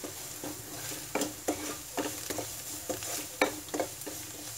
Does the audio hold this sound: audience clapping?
no